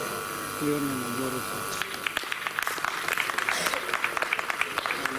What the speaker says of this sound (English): Let's give a huge round of applause for our principal, sisters and teachers.